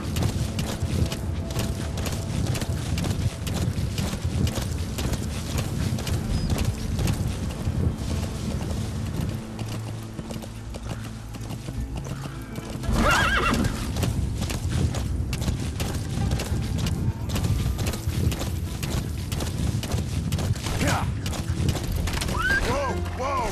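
A horse in the video game Metal Gear Solid V: The Phantom Pain clip-clops and gallops steadily with occasional neighs, mixed with game sounds and a person talking throughout.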